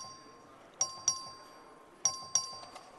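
Voting bell in the Texas House chamber rung by the clerk for a record vote: two pairs of bright electronic ding tones, each pair a quarter-second apart and the pairs about a second apart, over quiet room hum.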